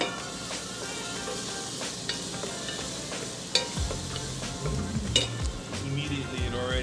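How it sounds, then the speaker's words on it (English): Garlic frying in a hot pan gives a steady, close hiss and crackle with bursts of popping, and a stirring clatter picks up partway through, with no voices over it. "you know it's good when you hear that sizzle"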